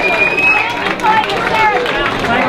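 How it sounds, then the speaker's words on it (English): Audience at an evening music event breaking into applause and cheering for veterans, a loud continuous burst of clapping and voices filling the room. "let's give a nice round of applause for all the veterans"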